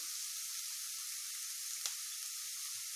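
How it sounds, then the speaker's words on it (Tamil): Sliced large onions and green chillies frying in hot oil in a pan, a steady soft sizzle and hiss throughout with one brief tap near the middle, no voices. "பெரிய வெங்காயம் பச்சை மிளகாயும் கொஞ்சம் ப்ரௌனிஷ் ஆகிற வரைக்கும் நல்லா ஃப்ரை பண்ணிடலாம்."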